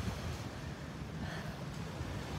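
Seaside wind buffets the microphone in a steady, rumbling gust with no talking, broad and continuous through the short stretch.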